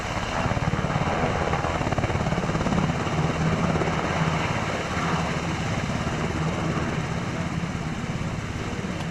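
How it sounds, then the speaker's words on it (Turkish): Gendarmerie search and rescue helicopter during a rescue exercise, its rotor and engine roaring loud and steady throughout with a constant rhythmic chop, close by and without pause. "jandarma arama kurtarma helikopteri"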